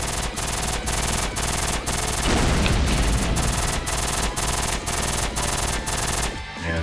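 Rapid, steady shooting in the Nintendo Switch shoot-'em-up Caladrius Blaze, a dense rhythmic stream of shots over busy game music and effects that continues almost the whole time.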